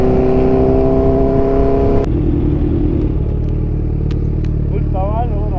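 A Kawasaki Ninja H2 superbike at a large superbike meetup roars loudly and steadily up close, its engine note dropping after about two seconds, with other motorcycles and crowd noise around.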